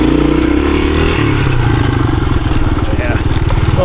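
A 1983 Honda XR200R dirt bike engine runs loud and close in tight woods, a steady rapid thumping drone that shifts pitch as the throttle changes, with a voice talking over it.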